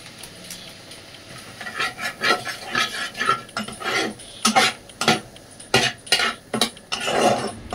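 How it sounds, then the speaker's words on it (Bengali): Coriander leaves are chopped with a knife on a board, making a series of quick, close chopping thuds in uneven bursts, with light clatter between them and no talking. "আমি একটু ধনেপাতাটা কুচিয়ে রাখলাম"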